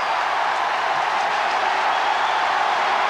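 Dense, steady roar of a large crowd at a 1996 World Cup cricket match between India and Kenya, a continuous wash of cheering and clapping with no voices standing out.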